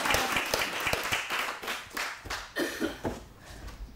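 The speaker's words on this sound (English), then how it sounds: "give everybody a warm welcome and round of applause" A small audience at a strength camp gives a round of applause, scattered clapping that starts strong and tapers into a few sparse claps, with a brief murmur of voices near the end.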